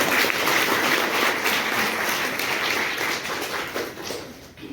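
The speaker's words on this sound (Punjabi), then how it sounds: "ਇਹਨਾਂ ਲਈ ਤਾੜੀ ਮਾਰ ਦਿਓ" An audience applauding for a principal at a women's industrial training institute, a dense continuous patter of many hands clapping at close range that fades slightly toward the end.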